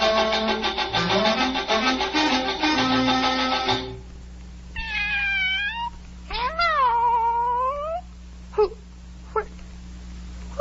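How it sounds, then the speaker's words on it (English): A cartoon Cheshire Cat from Alice in Wonderland meows several times in drawn-out, bending calls, followed by a few short sharp sounds, after a bright stretch of orchestral music. "Oh, it's the Cheshire Cat from the Duchess's"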